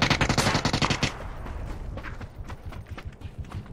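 Rapid automatic gunfire in PUBG on the Miramar map, a loud burst of close shots for about a second followed by scattered, fainter distant shots.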